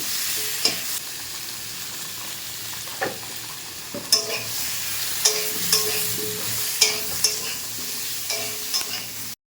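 Ground spice paste frying and being stirred in a pan for a home-cooked meal, with a steady sizzle and repeated scraping clinks of the spoon against the pan at close range.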